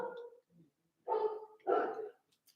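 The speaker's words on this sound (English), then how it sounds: "Sorry for the barking." Two loud dog barks close by, separated by a short pause, after a softer yelp at the start.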